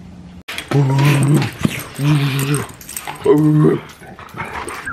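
Dogs whimper and growl up close in a home, with three drawn-out whiny, moaning vocal bursts and low grumbling between them, loud and near.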